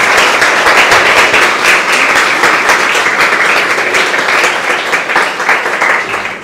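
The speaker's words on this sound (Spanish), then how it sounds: "Vamos a darle un fuerte aplauso al niño Jesús en este día." A congregation at a Catholic mass bursts into loud, sustained applause, many hands clapping together in a steady roar that tapers slightly toward the end.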